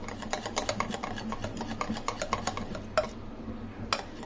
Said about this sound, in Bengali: আমি প্রায় 5 মিনিট মতো এভাবে বিট করেছি হ্যান্ড বিটার দিয়ে